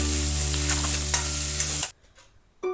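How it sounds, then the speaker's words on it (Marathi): Ginger, garlic and green chili paste sizzles and crackles in hot oil with scraping stirs, over a steady low hum that cuts out abruptly near the end. "त्यात आलं लसूण मिरचीचं वाटण हे व्यवस्थित परतून घेऊया"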